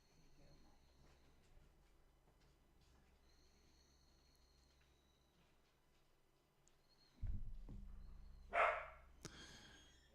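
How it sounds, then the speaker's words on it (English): A dog barks in a few short bursts near the end, fairly distant, after a long stretch of quiet night ambience with chirping crickets. "There's the dog barking"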